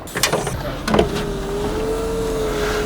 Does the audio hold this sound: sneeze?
no